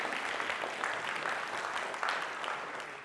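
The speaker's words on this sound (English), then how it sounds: "I think they should have a round of applause" A church synod audience applauds St Mary Magdalene's, a gold-award church, with a steady, even round of clapping from many hands that sounds somewhat distant and holds at a constant level throughout.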